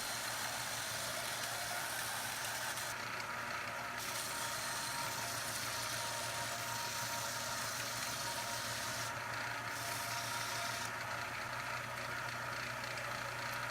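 A belt sander runs steadily, shaping a clear acrylic pen blank into a round form. The sound is a constant, fairly loud motor drone with a steady hum and a few brief bright gaps, continuous throughout with no talk.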